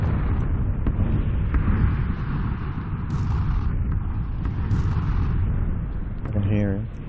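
Grenade explosions in PUBG, heavy rumbling blasts rolling continuously through the scene with a few sharp pops, while players talk over the top of them.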